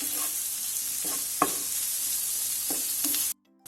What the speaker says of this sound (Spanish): Vamos a incorporar el bacon, que ya lo hemos cortado a tiras, la panceta ahumada. Y le vamos a dar también unas vueltas para que suelte la grasita